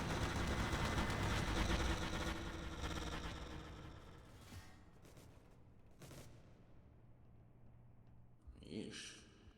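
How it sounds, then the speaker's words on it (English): Gunners firing in Garry's Mod Star Wars RP, a loud sustained burst of blaster-style gunfire at first that thins into scattered shots and fades, with a short sharp flurry near the end. "Those gunners, could not wait to start shooting at something."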